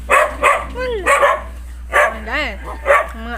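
Dogs at a rural Filipino home bark in several sharp, loud bursts up close, mixed with whiny yips and whimpers, while people talk around them.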